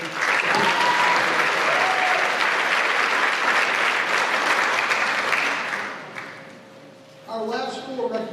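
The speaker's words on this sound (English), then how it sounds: "a next round of applause for friends and family" A crowd at a high school scholarship and academic awards ceremony gives friends and family a sustained round of applause, loud and dense, fading toward the end before a voice starts speaking.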